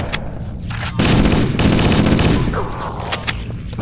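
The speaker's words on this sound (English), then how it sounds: "we kill them with the assault rifle" Sustained automatic assault rifle fire in Halo: Combat Evolved rattles in a dense, loud burst against flood enemies, with scattered single shots and game effects around it.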